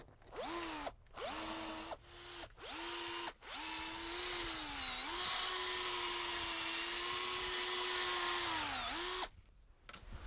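A power drill whirs in several short bursts, then runs in one long steady whine as it bores into a grapevine trunk, its pitch dipping under load before stopping.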